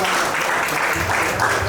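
Guests at a Nepali wedding in Biratnagar clap together, producing a steady, close wash of applause that holds at an even level for the short stretch with no voices on top.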